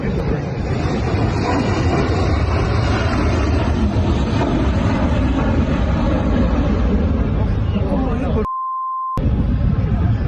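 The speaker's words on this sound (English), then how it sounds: "This commercial plane is playing around, doing a test, with full engine power" Commercial airliner engines running at full power during a test, a loud, continuous broadband roar that holds steady for about eight seconds, then a sudden brief gap carrying a pure tone before the roar resumes.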